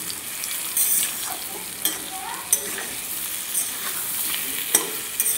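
Boiled taro pieces frying with turmeric in a pan, giving a steady close hiss and crackle of hot oil with occasional soft clicks of stirring and no talk.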